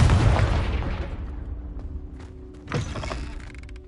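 A Confringo explosion spell in Hogwarts Legacy bursts with a loud, close boom that rumbles and decays over a couple of seconds, followed by a smaller crackling burst and a lingering tonal hum.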